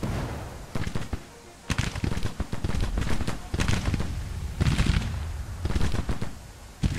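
Dense volleys of musket and cannon fire crackle and boom in a snowstorm battle in the Civil War strategy game Grand Tactician, loud and continuous with heavy low rumbles and repeated bursts.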